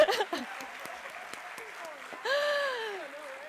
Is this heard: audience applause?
yes